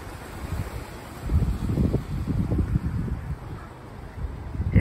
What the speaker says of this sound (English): It has gotten cold and very windy.